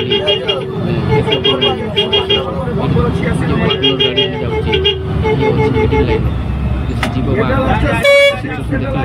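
Road traffic on a national highway with engines and tire rumble throughout, short horn toots scattered across the stretch and a louder, sharper honk near the end, close by and under some talk.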